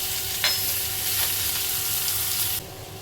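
Sliced onions sizzle steadily in hot oil in a pan, frying until reddish, with a couple of brief stirring scrapes; the close, continuous crackle cuts off near the end.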